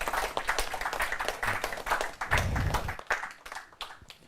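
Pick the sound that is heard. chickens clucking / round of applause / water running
round of applause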